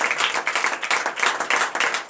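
A church congregation claps in acclamation to Jesus at a special teaching service, loud and close, a dense rhythmic run of many hands beating together with no talking.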